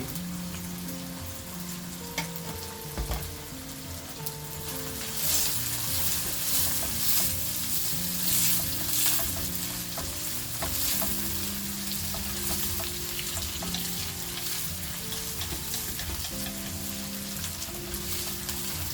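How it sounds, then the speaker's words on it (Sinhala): Thai-style oyster mushrooms with chili flakes stir-fry in a pan, with a continuous close sizzle broken by scraping stirring strokes, growing brighter partway through and holding steady to the end. "මේ විදිහට හොඳට කලවම් කරගෙන තව විනාඩියක් විතර පොඩ්ඩක් ෆ්‍රයි කරගන්න"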